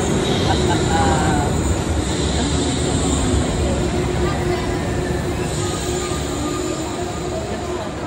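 The Wuppertal suspension monorail, built in 1901, rumbles past with a steady mechanical roar and faint high wheel squeal, fairly loud and continuous, easing slightly toward the end.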